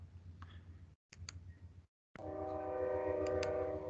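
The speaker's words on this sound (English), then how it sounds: "I live next to the train tracks, everyone. There's one coming through now, so I apologize if it gets too loud." A train passes on tracks right beside a house. Rhythmic clicking and rumble build to a loud, steady roar, and a sustained horn-like drone appears as it comes through close by.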